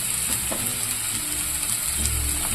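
Beans and peas sauté in hot oil with dried chillies and curry leaves, giving a steady close sizzle with a few light stirring clicks.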